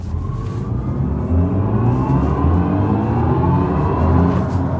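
A BMW i4 M50 electric car in sport boost mode launches hard from a standstill, its motor whine rising steadily over loud, continuous road and tire roar for several seconds.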